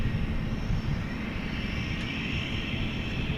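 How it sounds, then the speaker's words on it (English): A 757 airliner on takeoff from DFW Airport at night gives a steady, heavy engine roar with a high whine on top, sustained and unbroken throughout, fairly distant, with no voices. "So, Flight 753 cleared for takeoff to Chicago Rockford International Airport."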